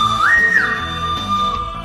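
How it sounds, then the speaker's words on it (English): Toy whistle from a wooden adventure set blown once, a clear sustained tone that rises in pitch, steadies, then drops back, close and fairly loud with no talk over it. "Okay, a whistle."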